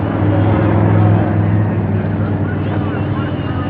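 Drag racing cars roar at a 1980 hot rod championship, a dense, loud and steady engine drone filling the whole stretch without a break.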